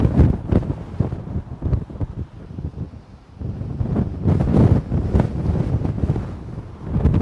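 Strong gusts at the Christie Mountain wildfire near Penticton buffet the microphone with loud, rumbling wind noise that surges and dips irregularly, close and harsh, with no talk.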